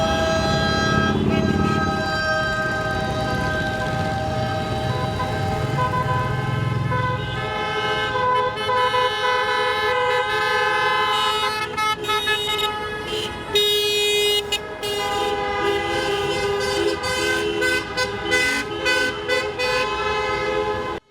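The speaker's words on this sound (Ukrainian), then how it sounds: "нагадуючи про себе затяжними звуками клаксонів залізних коней" Long, sustained horn blasts from a convoy of cars blare together continuously, loud and close, with engine rumble underneath and no speech, during a motor rally in support of prisoners of war.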